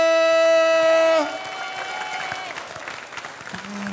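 A village audience in customary village Kukuh Marga, Tabanan, Bali, breaks into loud, sustained applause just after a held musical tone fades, the clapping filling the rest of the moment.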